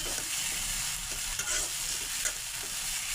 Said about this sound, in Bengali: মশলাটা অনেক সুন্দর করে কষিয়ে নিতে হবে।